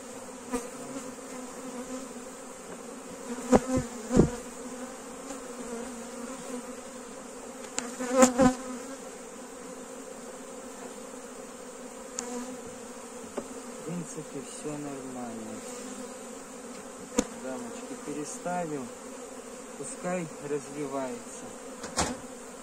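Honeybees buzz steadily in a hive during a spring colony transfer, a dense continuous hum with occasional louder bees passing close.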